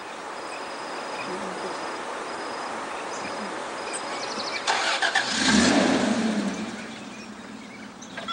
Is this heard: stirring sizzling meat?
no